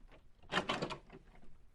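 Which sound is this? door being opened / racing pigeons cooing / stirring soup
door being opened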